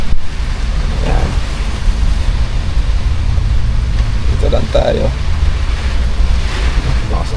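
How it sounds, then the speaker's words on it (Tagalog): Heavy rain and strong wind roar continuously up close, with gusts buffeting the microphone, while a person speaks briefly over the storm. "Lakas ng ulan, mahangin po."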